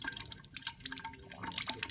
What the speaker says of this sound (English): dump out salt water and rinse the tube out